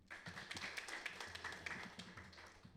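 Applause from a church assembly audience at an Indonesian synod gathering, a steady wash of many hands clapping at moderate distance for under three seconds with no talk over it.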